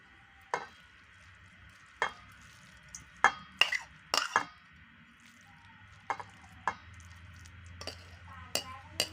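Chili, shallot and garlic dry-roasting in a pan make sharp scraping strokes of a utensil at irregular intervals, with a faint crackle in between, close and quiet with no talking.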